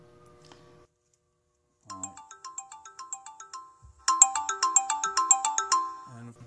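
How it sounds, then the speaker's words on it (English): A mobile phone ringtone plays a bright, chiming melody. A short burst of notes comes first, then after a pause a louder, faster run of repeated tones, close and clear with no voices over it. "my phone's got to ring while I am live streaming with you"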